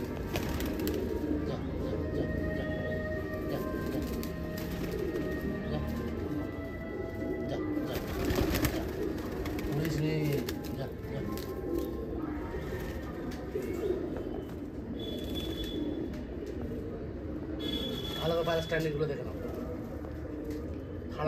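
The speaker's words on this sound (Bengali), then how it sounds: "এগুলো সব মাদি পায়রা।" Female Madrasi pigeons coo in a loft, a continuous low burbling from several birds nearby, heard beneath a man's ongoing speech.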